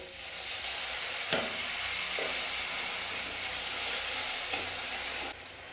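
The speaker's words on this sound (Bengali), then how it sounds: "মশলাটার মধ্যে সামান্য একটু জল দিয়ে দেবো।" Frying masala in a pan for a vegetarian navratan korma sizzles with a steady, close hiss after a little water is added, with a few soft utensil clicks against the pan.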